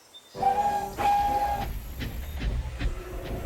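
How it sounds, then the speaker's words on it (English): A steam train whistle sounds twice, clear tones rising over a low rumbling engine that keeps chugging along afterward. "when he heard a familiar whistle"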